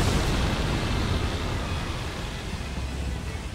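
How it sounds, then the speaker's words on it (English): A loud, close explosion roars through an Elden Ring Shadow of the Erdtree boss fight against Bayle. It sounds as one continuous rumbling blast that slowly fades, with no voices over it. "Well, another explosion,"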